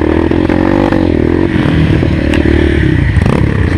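Motorcycles rev and accelerate hard along a rough dirt trail, their engines droning loud and close with rising pitch and scraping, clattering bumps throughout.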